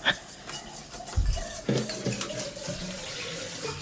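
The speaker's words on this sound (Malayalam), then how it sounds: "ആ പാത്രത്തിൽ തന്നെ നല്ല തിളച്ച വെള്ളമാണ് ഞാൻ ഇതേക്ക് ഒഴിച്ച് കൊടുക്കേണ്ടത്" Boiling water poured from a pan onto roasted semolina in a home kitchen, a close splashing gush with bursts of louder pouring and vessel clatter, no talk.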